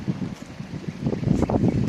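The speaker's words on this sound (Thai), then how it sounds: "ลมแรงมากเย็นสบายนะครับ" Strong wind blows outdoors in rural Nakhon Sawan, Thailand, buffeting the microphone in loud, gusty low rumbles that rise and swell across two seconds.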